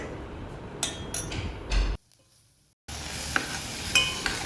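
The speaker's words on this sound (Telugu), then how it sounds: "తాలింపు చేసుకుంటున్నాను." Tempering with onion, green chilli, peanuts and carrot frying in oil in a pan, a busy sizzle with spoon stirs and clinks, broken by a brief near-silent gap before the frying resumes.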